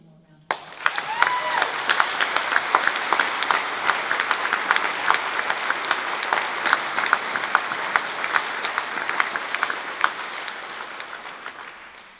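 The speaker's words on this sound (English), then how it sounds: "can we give him one more round of applause?" Audience applause for a musician at a folk music benefit event: a sudden burst of loud, full clapping from a sizable crowd that holds steady for several seconds, with faint voices mixed in, before tapering off at the end.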